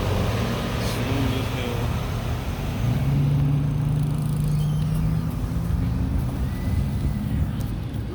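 A 1998 BMW 740iL's engine idles steadily just after starting, a continuous low drone close by, with someone briefly speaking over it.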